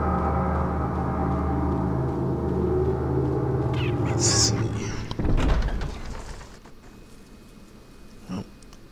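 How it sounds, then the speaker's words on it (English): A door opens in the GameCube game Resident Evil 4, a sustained creaking groan that gives way to a sudden heavy thud near the middle, followed by a quieter tail with a faint knock near the end. "This door opens."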